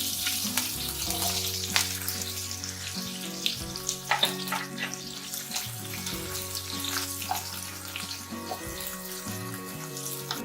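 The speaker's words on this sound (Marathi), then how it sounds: "दोन तीन मिरची आणि कांदा टाकते" Green chilies and onion hit hot oil for rava dosa chutney, giving a continuous close sizzle with scattered pops and crackles, while soft background music plays underneath.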